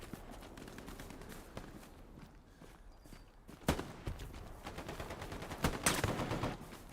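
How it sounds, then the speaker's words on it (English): Gunfire from other players during a Hell Let Loose battle: scattered shots and bursts over a constant rumble, with a couple of sharp, louder cracks close by near the end. "Someone else is shooting at me."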